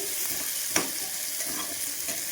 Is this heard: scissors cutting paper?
no